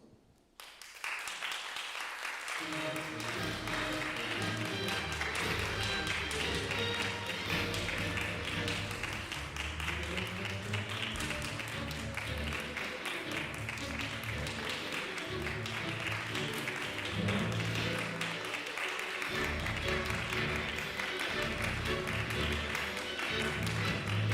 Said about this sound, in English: Please stand up and welcome the judges with your warm applause